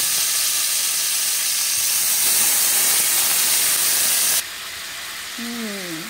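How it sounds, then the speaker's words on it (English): Shrimp drop into an oiled frying pan and sizzle loudly, a steady close hiss that drops to a quieter, settled fry partway through, with brief faint tones near the end. "now we're going to put our shrimp in the pan, and you see that sizzle"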